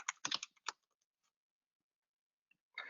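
Short bursts of quick keystrokes on a computer keyboard, close and crisp, with a silent pause between the typing bursts.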